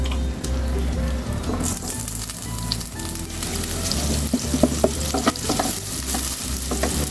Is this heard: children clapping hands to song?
no